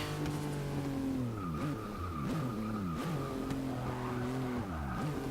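A 1998 Subaru Impreza 22B STi in the video game Forza 6, its engine revving hard through repeated gear changes, pitch climbing and dropping, with tire squeal over a constant loud drone.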